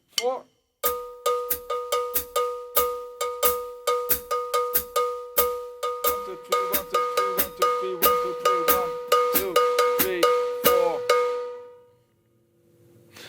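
A cowbell mounted on a drum kit taps out a 12/8 Afro-Cuban bell pattern, crisp metallic strikes in a steady repeating rhythm with drums joining partway through, then everything stops; a voice counts briefly at the start.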